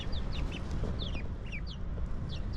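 Backyard chickens clucking, a few birds giving repeated short, bright clucks over a steady low outdoor rumble, fairly close.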